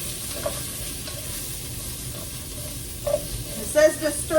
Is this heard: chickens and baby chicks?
no